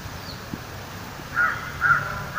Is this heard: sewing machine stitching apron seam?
no